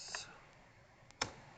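Keystrokes on a computer keyboard while a command is entered into a terminal, heard as a few sparse, light clicks, with one sharper tap near the end, against a quiet background.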